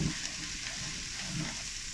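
Vegetables saute in a pan over a hot fire, a dense steady sizzle that stays even and close across the short stretch, with no talking.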